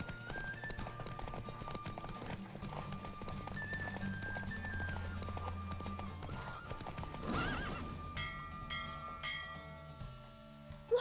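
Horse neighing and clip-clopping hooves in The Witcher 3 video game, with a drawn-out whinny over steady galloping and game music, then a bright chiming flourish near the end.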